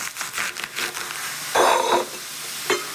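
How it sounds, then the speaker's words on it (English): Thick-cut bacon strips fry in a pan, a steady close sizzle and hiss with occasional stirring and scraping bursts, heard alone without talk. "we have these thick cut strips because we not only want the bacon, we also want the grease"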